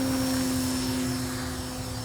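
A Tower Hobbies P-51B model airplane flies overhead, producing a steady droning engine hum with a strong tonal whine, continuous and moderately loud for the short moment.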